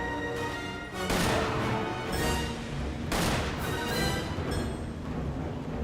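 Gunfire from a video game as a player shoots at a monster with a glowing back while crossing a lava field: dense, sustained volleys of loud shots in overlapping bursts across the whole stretch.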